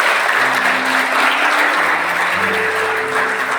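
A church crowd at a Christmas service claps steadily and loudly for several seconds, a dense wash of applause with a low musical tone holding underneath.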